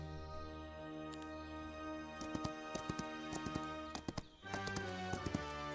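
Horse hooves in the fantasy strategy game Heroes of Might and Magic: Olden Era, a rhythmic clip-clop with a few sharp hoof knocks over a sustained musical backing, with no talk.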